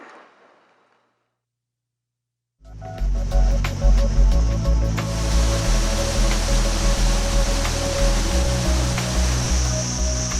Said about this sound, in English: Some of the most beautiful waterfalls in the world. Right here in Luang Prabang, Laos.